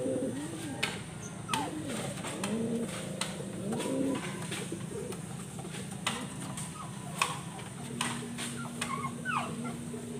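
Racing pigeons coo in soft, repeated rolling calls at a loft, close by, over steady background noise with occasional faint clicks and ticks.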